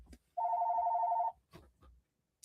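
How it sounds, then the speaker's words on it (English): A phone rings once with a single steady electronic trill lasting about a second, fairly close, followed by faint rustling and a quiet setting. "I thought that phone was muted."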